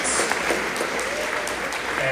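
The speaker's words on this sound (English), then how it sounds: "I want to take a round of applause for all of our mothers here in the room" Town hall attendees in Hanford, California applaud mothers in the room for Mother's Day, a steady wash of clapping from a crowd, moderately loud and continuous.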